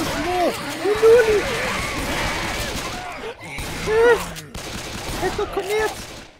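Gunfire in the zombie mode of the video game Left2Mine, with bursts of rapid shots against a noisy game background while excited players shout and talk over the action.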